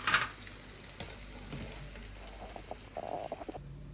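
Bangka-style Fukien rolls frying in hot oil, a quiet crackling sizzle with scattered pops and a few sharper clinks and stirring noises, fairly faint and close.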